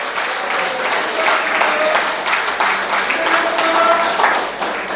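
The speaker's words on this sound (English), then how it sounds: "you deserve another round of applause" A round of applause from an audience at a political event in Vieux Fort South, St. Lucia, loud sustained clapping that holds steady throughout with faint voices mixed in.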